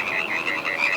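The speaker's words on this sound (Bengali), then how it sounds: "চারিদিকে কোলা ব্যাঙ আর ঝিঝির ডাক ছাড়া কিছুই শোনা যাচ্ছে না।" Bullfrogs croak at night in a continuous chorus of throaty calls, steady and fairly close, with no other sounds.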